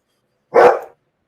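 A single short dog bark, close and sharp, rises out of silence and fades within half a second, with no other sound around it.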